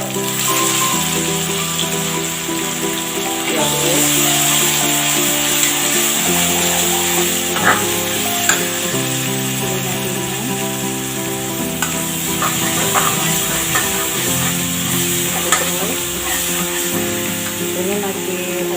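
Shallots and ground spice paste stir-fry in a pan for chicken gulai, crackling and sizzling continuously with scraping stirs, while a voice talks intermittently over the cooking.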